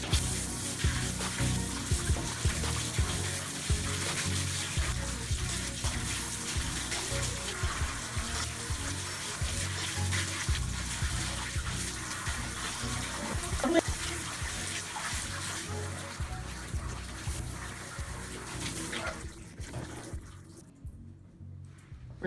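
Water running steadily while hair treatment is rinsed out, a continuous dense splashing rush from a tap or shower that holds for most of the stretch and then cuts off near the end.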